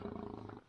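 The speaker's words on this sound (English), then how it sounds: "You can just hear this roar coming out of the bush." A lion roars from the bush in the Kalahari, a low, sustained rumbling roar that fills the short moment at steady loudness before easing off at the end.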